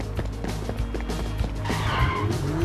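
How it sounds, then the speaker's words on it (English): A car engine starts up and revs in an animated movie scene, with rumbling low engine noise, squealing tires and quick clattering bursts, fairly loud throughout. "The engine started."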